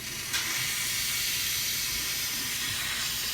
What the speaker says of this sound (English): So we're gonna automatically let the steam out